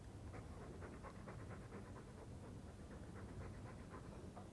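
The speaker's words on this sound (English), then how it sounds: "All that noisy dog breath," A dog in the Dragon Age II video game pants quietly in a steady, rapid rhythm of short breaths, faint and alone with no talk.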